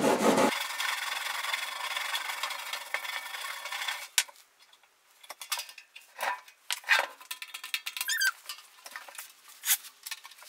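Graphite wax rubbed onto the drawer slides of a military cabinet, heard up close as short scraping and rubbing strokes in irregular bursts, following a few seconds of broadband hiss.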